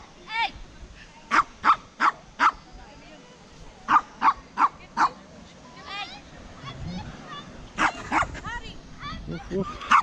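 A dog barks in quick repeated bursts of three or four sharp yips, pausing between groups, fairly close on an outdoor hilltop walk near benches by Dyserth Waterfall and Craig Fawr, with a voice talking at times.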